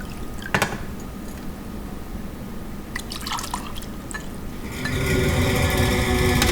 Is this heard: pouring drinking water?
yes